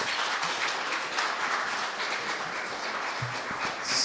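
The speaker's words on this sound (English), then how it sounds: "Give him a big applause" A conference audience at a chiropractic presentation applauds, a full steady wash of clapping from many hands heard at moderate distance, alone without talk.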